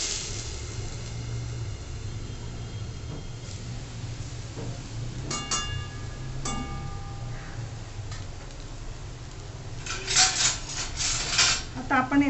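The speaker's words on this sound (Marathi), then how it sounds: "आपण हे चांगलं परतवून घेऊ" A ginger, garlic and tomato paste with whole spices fries in a pan, a soft steady sizzle under scraping and tapping of a spoon against the metal, with a few louder clinks near the end.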